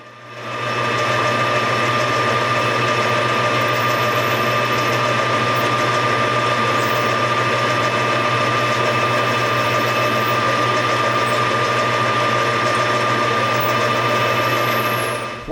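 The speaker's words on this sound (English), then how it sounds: "Then I'll drill a hole to admit the threaded tang." Lathe drilling a hole into a brass pommel: a constant, loud droning machine whir with a steady low hum that runs unbroken from start to finish.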